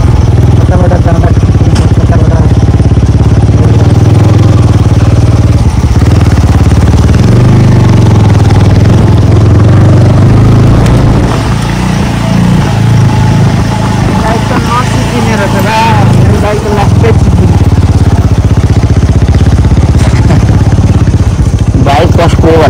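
A motorcycle rides along a rough road toward Kakani in Nuwakot, its engine droning loudly and steadily throughout with rattling clatter, while people talk over the noise.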